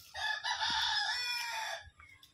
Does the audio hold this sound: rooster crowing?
yes